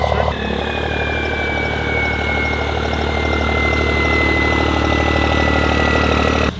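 A 1200HP street truck engine runs at a steady, loud, rumbling idle with deep low-end throb and a faint whining tone riding above, continuous throughout.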